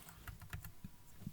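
Several quick, faint clicks from a computer keyboard being typed on during a programming class, irregular taps spread over about a second with no voices.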